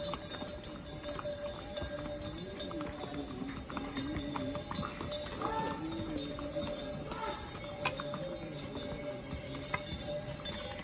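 Steady clip-clop of horse hooves in a busy street, with crowd chatter and background noise throughout.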